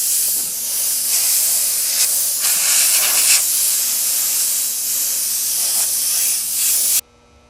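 An airbrush sprays black paint onto artwork in a loud, steady hiss that holds for about seven seconds with slight pulses, then cuts off abruptly into near silence.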